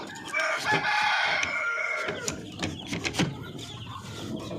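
A native chicken rooster crows nearby in one long loud call, followed by softer clucking and farmyard bird noise.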